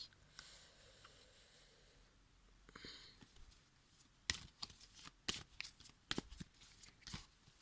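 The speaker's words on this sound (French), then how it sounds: "Je fais sauter les cartes." Tarot cards being shuffled close up, with a soft riffle and rustle early on, then a run of sharp, loud snapping slaps as cards are flipped and tapped, irregular and alone.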